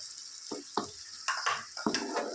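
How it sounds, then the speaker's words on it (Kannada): Ginger, garlic, coriander and coconut paste frying on medium flame in a pan for mutton sukka, a soft sizzle under several distinct stirring scrapes and clinks of the spatula, close and fairly quiet, with no talking. "ಇದನ್ನು ಹಾಕ್ಕೊಂಡು ಚೆನ್ನಾಗಿ ಹಸಿ ವಾಸನೆ ಹೋಗೋವರೆಗೂ ಚೆನ್ನಾಗಿ ಫ್ರೈ ಮಾಡ್ಕೋಬೇಕು"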